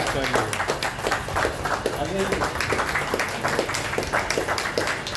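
Crowd applause at a public gathering in Jamshedpur as the state president is garlanded, steady clapping throughout with a voice speaking over it.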